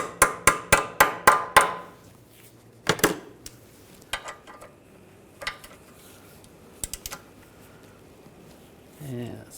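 Hammer taps on a control arm stud of a 2009-2010 BMW 535i xDrive, a quick run of six or seven sharp metallic blows, then a few scattered single knocks and clanks, close and loud.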